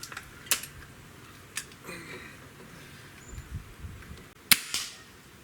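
A Walther LGU .177 underlever air rifle fires pellets at a pellet can outdoors, giving a few sharp, snappy cracks spaced irregularly, with fainter impact ticks among them.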